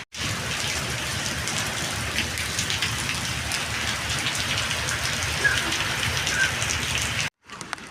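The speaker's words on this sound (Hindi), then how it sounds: "बारिश सुबह मुसलसल तकरीबन 5 बजे की हो रही है और अभी भी हो रही है स्टिल।" Heavy rain pours steadily onto surfaces in an early-morning downpour, a dense, loud, continuous hiss of drops that cuts off abruptly just before the end.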